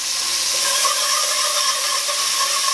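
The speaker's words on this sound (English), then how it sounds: "Let that garlic saute." Onions and garlic sauteing in a pot give a steady, close hiss and crackle of frying that holds evenly with no pauses.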